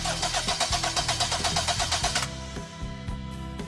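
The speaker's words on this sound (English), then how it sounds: "Now you'll need to crank the car." A car engine cranks over rhythmically during a compression test, roughly a dozen quick even pulses from the starter, then it stops, leaving a low steady hum.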